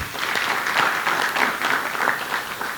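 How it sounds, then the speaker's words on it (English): A warm, steady burst of audience applause at a youth gathering in Zimbabwe, many hands clapping continuously at fairly close range with no speech. "A warm round of applause."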